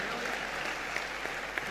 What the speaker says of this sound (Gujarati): વડીલ માણસ છે એના માટે પણ એટલી જોરદાર તાળીઓ હોવી જોઈએ.